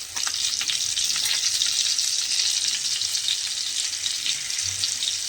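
Potatoes fry with salt and turmeric powder for khichuri, giving a loud continuous bright sizzle close by, steady throughout with faint stirring underneath and no speech.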